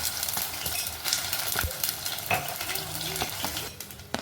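A ground paste of ginger, garlic, onion and cumin sizzles and fries steadily in a hot pan for anchovy fish curry, a continuous close crackle with occasional stirring scrapes and utensil clinks.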